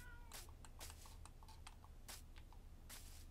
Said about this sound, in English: my cat's bothering me. He wants something.